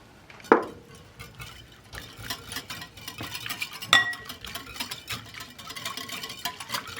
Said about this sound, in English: We're going to just whisk this together